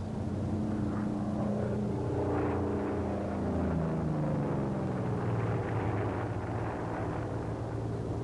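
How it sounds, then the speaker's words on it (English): An F4U Corsair propeller fighter drones through a slow roll, its engine note steady and loud with a gradually shifting pitch, continuous across the whole stretch. "And the slow roll, which may be performed at a speed of approximately 180 knots."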